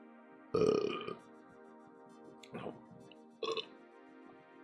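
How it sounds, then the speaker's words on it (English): A loud, drawn-out burp erupts, followed by two shorter belches, close to the mic with quiet music humming underneath. "burped in the grossest way possible"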